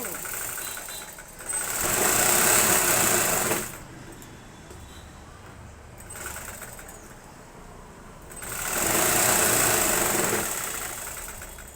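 During a beginners' tailoring class, a sewing machine stitches cloth in two loud, steady whirring runs of a couple of seconds each, separated by quieter gaps while a voice talks.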